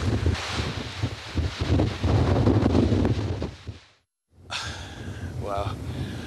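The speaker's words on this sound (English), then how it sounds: "it's pretty windy out here" Strong wind roars and buffets the microphone at a campsite beside sea cliffs, loud and steady for several seconds before a brief cutout, after which a person talks over the lighter gusts.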